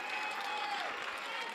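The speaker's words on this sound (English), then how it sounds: "I think the claps came from this side over here." Clapping from one side of a church congregation during a sermon, a brief burst of applause with a voice speaking over it.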